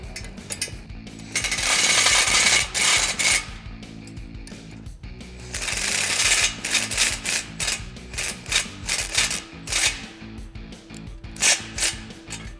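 Bursts of rapid mechanical ratcheting and rattling from a power tool tightening bolts on the brackets of RedRock drop side step bars on a 2-door Jeep Wrangler JL, loud and intermittent with short pauses between runs.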